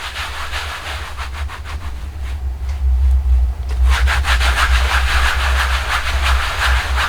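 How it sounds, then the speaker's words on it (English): A cutting plate scrubbed hard with a cloth, giving loud, rhythmic back-and-forth rubbing strokes over a low steady hum, with no speech. "And just really scrub it down good, because you'll be surprised how much this will save your plate just by cleaning it."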